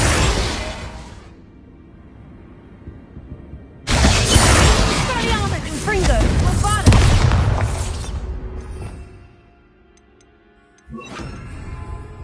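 Confringo fire-spell blasts in Hogwarts Legacy come as loud, crackling explosive bursts with shattering debris, one brief blast, a longer roaring barrage and a final burst, separated by quieter rumbling gaps.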